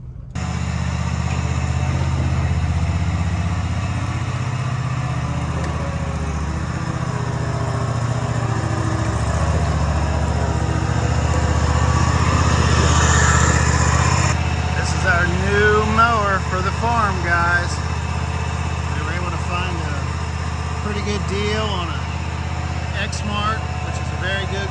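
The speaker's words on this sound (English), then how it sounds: "Xmark, which is a very good commercial grade mower." An Exmark zero-turn commercial mower with a 72-inch deck runs steadily near the microphone, a loud, deep engine drone throughout, with the pitch rising and falling midway as someone talks over it.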